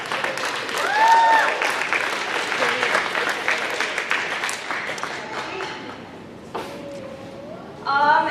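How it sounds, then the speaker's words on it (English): Concert audience applauding a school trumpet section, a strong wash of clapping from a crowd with a few whistles and cheers, fading toward the end. "Give them a round of applause."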